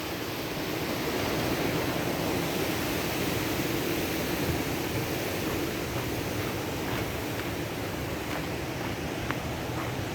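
The river at Qualicum Falls rushes toward the waterfalls, a steady, loud, broadband roar of churning water that holds constant with no pauses and no voices.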